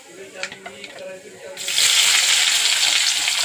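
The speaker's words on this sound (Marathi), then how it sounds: "छान असा कांदा मस्त आपला सोनेरी रंगावर आपण भाजून घेऊ" Onions sizzle loudly in hot oil in a pan, a steady bright hiss that swells suddenly after a second and a half of quieter clinks and stirring.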